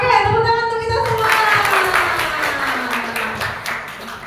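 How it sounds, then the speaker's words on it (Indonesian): An audience in a talk about communicating with people with disabilities breaks into steady applause, loud and close, while a voice carries on over the clapping before it fades. "tepuk tangan untuk kita semua"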